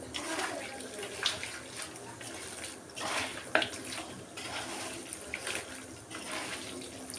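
Water is sprinkled by hand onto chicken 65 marinade in a home kitchen, giving faint intermittent splashes and drips over a low, steady background hiss.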